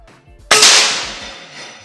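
A stainless SR air rifle fires a single sharp crack at layered cans, loud and close, followed by a short decaying ring, with faint low murmuring just before the shot.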